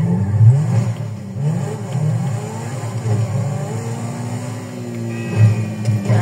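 A car engine in GTA Online revs and accelerates with a steady, loud whirring drone that rises and falls, with no voices.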